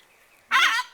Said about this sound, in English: You see the little dove?